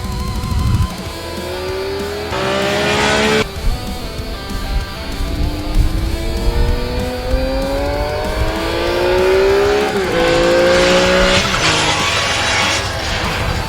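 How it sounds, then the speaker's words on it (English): A Honda CBX six-cylinder motorcycle engine revs up and down in rising, sweeping pitches, smooth, soft and harmonious yet fairly loud, with brief bursts of louder acceleration throughout. "The 6 cylinders generated a mechanical, soft and harmonious note"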